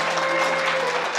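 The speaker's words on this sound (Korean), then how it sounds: "따뜻한 박수 부탁드리겠습니다" Wedding guests in a grand convention ballroom applaud the bride and groom, a brief, dense wash of clapping that stays loud and even throughout, with a faint steady tone humming underneath.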